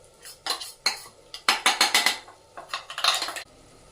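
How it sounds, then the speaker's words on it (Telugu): A spoon stirring ground coconut and sesame powder into bitter gourd curry in a clay pot, with loud close scraping and clinking strokes in quick bursts, then a brief pause. "మొత్తం ఇట్లా వేసుకొని ఒకసారి కలుపుకుందాము."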